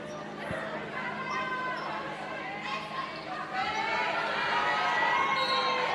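A high school student section cheers at a volleyball match, a sustained crowd roar with shouting that swells louder toward the end, with nearby chatter and ball sounds in a gym.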